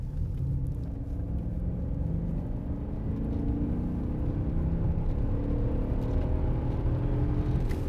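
A car engine holds a steady, loud rumble at high revs for the whole stretch, with no talking over it.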